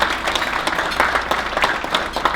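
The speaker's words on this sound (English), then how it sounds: "Let's give them all a round of applause." Steady round of audience applause at a New Jersey family business of the year awards event, dense clapping filling the room at an even, sustained level throughout.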